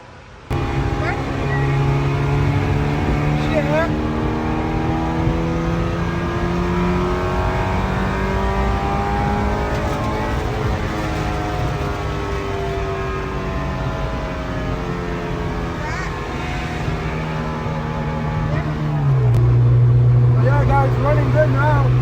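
An EG sedan's engine runs loud and close for over twenty seconds, revving up and down in sweeping waves before settling into a deeper, heavier drone near the end, with a voice talking over it at times.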